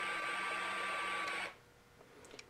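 Motorized gun turrets rotate on a 1/350 scale Bandai Space Battleship Yamato model, giving a steady mechanical whir that runs evenly for about a second and a half, then stops abruptly, leaving quiet room tone.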